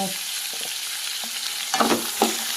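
Pigeon peas with chili powder fry in a pan under a steady close sizzle, while a spoon scrapes and stirs in a few short strokes and no one speaks.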